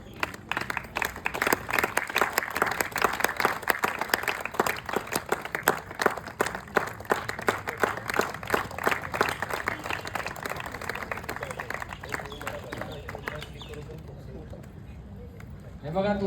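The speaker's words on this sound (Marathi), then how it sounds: "ते जरा जोरात टाळ्या वाजवा" Audience at a welcome ceremony clapping for a guest: dense, sustained applause from a crowd, strong for most of the stretch then thinning out toward the end, with voices speaking over it.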